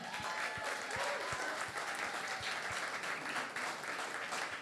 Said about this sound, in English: I need you to give a big round of applause for the incredible artists that we are witnessing today